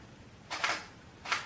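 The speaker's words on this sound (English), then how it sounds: "Shutter went off." A camera shutter fires in a dark room with two quick, faint clicks about three-quarters of a second apart, close by and otherwise quiet.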